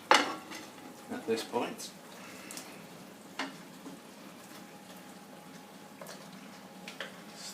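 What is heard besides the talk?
beef added back into red wine, onion and carrot reduction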